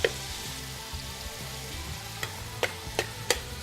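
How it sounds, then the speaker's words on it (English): Ground pork sizzling steadily in a pan as a utensil chops and breaks it up, with a few sharp scraping clicks near the end; close and fairly loud, with no talking. "I'm going to kind of chop it up in the pan to make sure I get an even cook throughout it"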